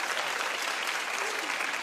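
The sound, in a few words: studio audience applause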